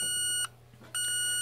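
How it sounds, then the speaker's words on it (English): A 1982 Sears Model 47201 alarm clock sounds its alarm in two loud electronic beeping bursts, each about half a second, separated by a short pause, with no talking. "There's the alarm for you at 12:05."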